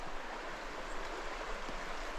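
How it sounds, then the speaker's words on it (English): Partridge Creek, a small meandering creek in Algonquin Provincial Park, flows with a steady, soft broadband rush of water, continuous and moderately distant, with no voices. "This is Partridge Creek, which comes, I think, from Dixon Lake"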